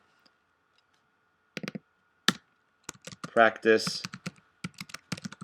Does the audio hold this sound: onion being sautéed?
no